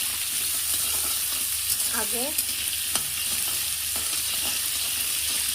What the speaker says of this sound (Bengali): ভালো করে গাজর আর আলুটা ভাজা হয়ে আসলেই